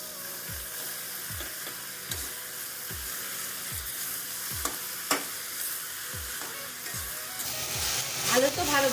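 Washed jute leaves frying with soft potatoes in a village-style pan, a steady sizzle broken by regular scraping stirs about every half second, growing busier toward the end.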